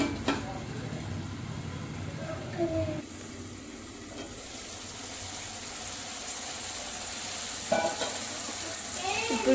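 Tomatoes fry in a pan with a steady, close sizzle and occasional stirring scrapes, kept at an even level throughout.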